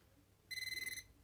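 An Emos contactless voltage detector gives one short burst of rapid, high, pulsing beeps lasting about half a second, close and clear in a quiet room.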